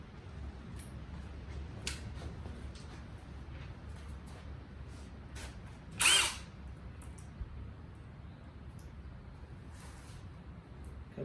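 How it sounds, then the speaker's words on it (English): A power tool bolts down an engine intake manifold in a single short, loud burst partway through, set against a steady low background hum with faint scattered clicks. "Now we're going to go ahead and set this intake manifold down on it and get her bolted down."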